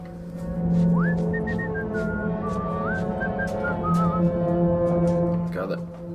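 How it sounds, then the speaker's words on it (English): A guard in the stealth game Thief whistles a wandering tune in clear, sustained notes across the clip, heard over a steady low electronic hum from the game's background ambience. "I can hear the whistling"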